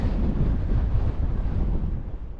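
Strong wind buffets the microphone on the Pen y Fan mountain ridge, a loud, continuous roaring gust with no voices.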